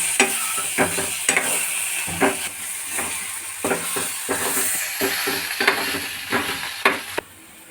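Ginger garlic paste stirred in hot oil for an egg curry: a steady loud sizzle with repeated scraping strokes of a spoon against the pan, close up and without voices, ending abruptly.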